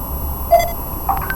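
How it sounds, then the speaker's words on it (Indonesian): Buzzer of an IoT temperature monitoring system giving short electronic beeps, one near the middle and a quick pair toward the end, over a faint hum in an open room. "Tapi kalau di atas 29 sampai dengan 30 maka dia bip 1 kali."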